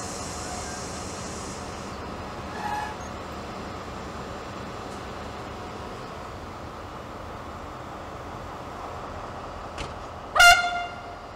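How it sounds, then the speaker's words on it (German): LTG Link diesel railcar departing a station: a faint, steady low rumble of the train pulling away, with a brief sharp horn toot near the end. "Der zuerst angekommene Dieseltriebwagen von LTG Link fährt auch als erster wieder ab."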